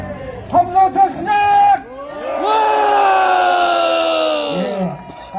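Crowd at a patriotic outdoor rally roars with sustained, loud group shouting and cheering, sharp vocal bursts at first swelling into a long unified yell before fading.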